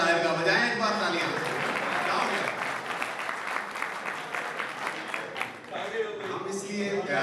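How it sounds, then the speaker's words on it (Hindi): Applause from the audience at an Urdu poetry mushaira, a dense burst of clapping that swells and then thins, with a voice speaking over parts of it. "बजाएं एक बार तालियां"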